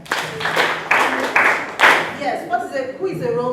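An audience at a children's reading event claps in a few loud bursts, then the applause thins out and a voice starts talking over the last of it.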